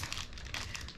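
Small plastic bags for pencils crinkle and rustle as they are handled, a close, steady crackling that lasts about a second with no talk over it.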